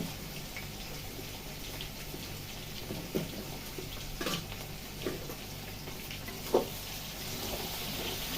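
Tomatoes frying in a pan give a steady hissing sizzle with a constant crackling bed, broken by a few louder pops and spatters, heard close and alone without speech.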